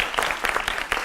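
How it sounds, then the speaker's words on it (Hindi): Brief burst of audience clapping welcomes Mahant Naval Kishore Das onto a Hindi television debate studio set, steady and fairly close for about a second. "जोरदार तालियों से अभिनंदन करिए महंत जी का"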